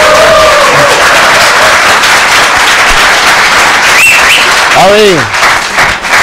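Studio audience at a TV show applauds a guest with dense, loud clapping for several seconds, while a host's voice speaks over it.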